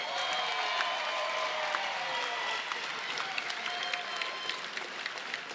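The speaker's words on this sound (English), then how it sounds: "a round of applause for these two fighters" An audience at an MMA fighting championship event applauds the two fighters, a steady wash of distant crowd clapping beneath the ringing of an amplified arena announcer's voice.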